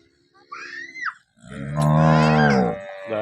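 A dairy cow, one giving fifteen to sixteen litres of milk a day, moos loudly and close by: a short rising call, then a long, deep, drawn-out moo.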